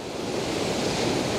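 Coastal waves surging on a shoreline during a landscape photography hike, a loud, continuous rushing wash of surf mixed with wind noise on the microphone.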